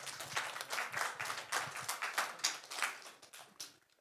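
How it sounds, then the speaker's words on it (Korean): A church congregation gives a brief round of applause during a service. The clapping is quiet and somewhat uneven, with separate claps audible, and it thins out and fades at the end. "박수 한번 하십시다."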